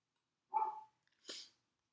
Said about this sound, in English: Sorry if you guys can hear my dog.